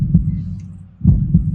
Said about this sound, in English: There is a heartbeat.